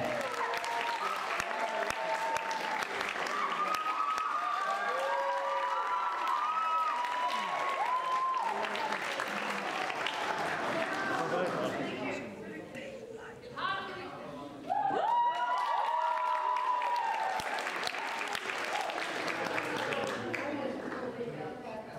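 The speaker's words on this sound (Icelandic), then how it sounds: "Eigum við ekki bara að gefa þessum góða hópi öllum gott klapp" Sustained applause from an audience at a singing and songwriting competition fills the room steadily, with scattered cheers and voices riding over it. It briefly thins partway through before swelling again.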